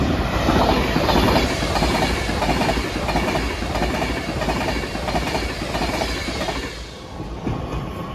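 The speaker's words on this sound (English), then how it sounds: "passing through now is an Avanti West Coast service from Glasgow Central to London Euston" An Avanti West Coast passenger train, a Glasgow Central to London Euston service, runs loudly through Crewe station with steady rolling rumble and rhythmic wheel clatter over the rail joints, fading slightly near the end.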